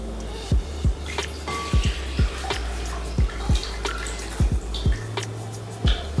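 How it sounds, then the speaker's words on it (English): Water is emptied out while making plunger coffee, a rhythmic run of gurgling glugs and plops at regular intervals, close and fairly clear. "I'm going to empty out my water"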